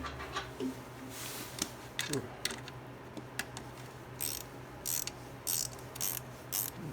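Ratchet clicking while tightening down a Redrock cold air intake on a Jeep Wrangler JK, short close bursts of clicks and metallic taps with brief pauses between them.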